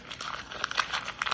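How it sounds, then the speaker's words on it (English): Paper is crumpled by hand into a ball, a quick, soft crinkling and crackling close by, lasting just over a second with no talking. "crumple it up and throw it in your garbage can."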